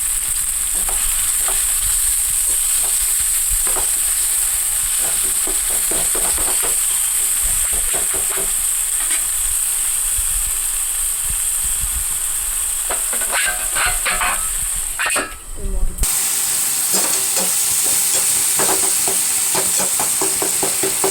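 Tomatoes with salt and curry leaves frying in a pan, a steady close sizzle with stirring scrapes and crackles that briefly cuts out near the end before resuming.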